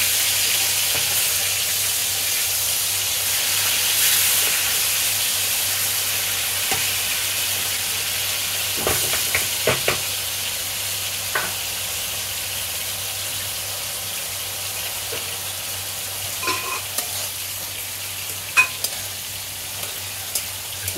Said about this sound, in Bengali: পেঁয়াজ আর চিংড়ি মাছ ভাজা হচ্ছে।